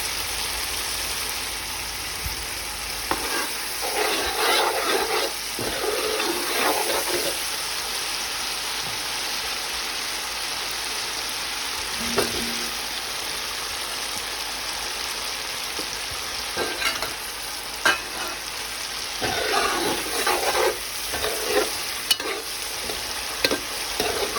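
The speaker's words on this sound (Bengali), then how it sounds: "আদাটাও দিয়ে দিয়েছি আর দিয়েছি এলাচি দিয়ে এখন সুন্দর করে গোল্ডেন ব্রাউন করে ভেজে নিচ্ছি" Ginger and cardamom fry in a pan toward golden brown, giving a continuous hissing sizzle with occasional spoon stirs and scrapes, steady and moderately loud throughout with no speech.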